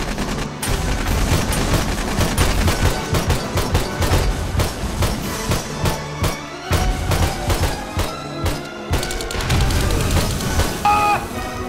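Dense, loud bursts of fireworks go off in rapid succession in the survival game 7 Days to Die, a crackling fusillade of sharp bangs that continues almost without pause.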